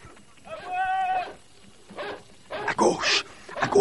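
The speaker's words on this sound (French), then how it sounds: "Le chien!" A dog barks and whines out on the moor in a French radio drama adaptation of The Hound of the Baskervilles, a few short harmonic yelps followed by voices talking urgently.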